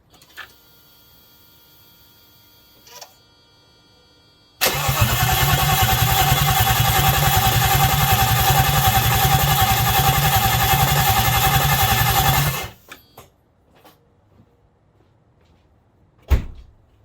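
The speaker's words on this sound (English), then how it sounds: "now that I got it cranked and the engine primed" An M119 engine cranks over on its starter for several seconds of loud, rhythmic whirring churn that stops abruptly, bracketed by quiet stretches with a few clicks and a sharp knock near the end.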